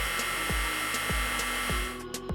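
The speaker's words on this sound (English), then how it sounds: "Give that a good mix with a hand mixer or a regular whisk." An electric hand mixer whirs steadily through cookie dough, a loud, continuous motor drone with a rhythmic thumping as the beaters churn, easing slightly near the end.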